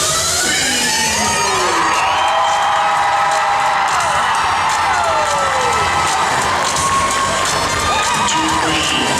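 A cosplay contest crowd at the Necronomicon convention roars with cheers, whoops and high-pitched shouts for the Princess Peach costume. The noise is loud, dense and sustained throughout, with no one speaking over it.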